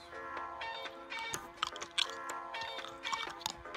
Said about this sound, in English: the sound of chewing intensifies